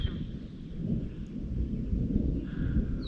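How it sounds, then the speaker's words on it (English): Low thunder rumbles and rolls continuously from a storm that built up quickly over a fishing spot, with a faint high tone drifting in later. "I think that might be thunder"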